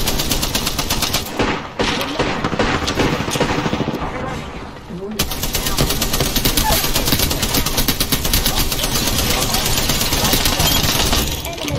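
Rapid automatic gunfire from Apex Legends gameplay, loud and nearly continuous bursts with a brief lull near the middle, layered with dense game effects.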